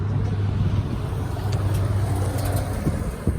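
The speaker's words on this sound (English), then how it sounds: "couple of cars." Cars passing by on a road, a continuous close engine rumble and tire roar that swells and holds for a few seconds with no talking.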